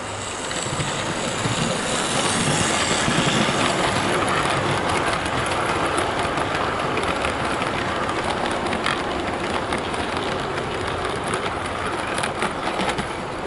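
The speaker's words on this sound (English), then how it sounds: "we have Canadian Pacific pulling the Pullman coaches" A Hornby Rebuilt Merchant Navy 'Canadian Pacific' model locomotive hauls seven Pullman coaches around the track, a steady rolling rumble with fine clicking from the wheels that stays constant and close throughout.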